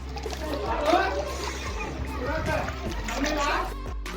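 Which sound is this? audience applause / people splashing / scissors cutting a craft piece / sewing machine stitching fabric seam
people splashing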